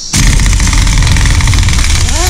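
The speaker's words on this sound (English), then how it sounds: "I got my impact gun and spin on that nut" A pneumatic impact gun rattles hard and continuously as it spins off the flywheel nut on a Mercury Thunderbolt 500 50 HP outboard, loud, close and alone, with a rapid hammering pulse running for the whole stretch.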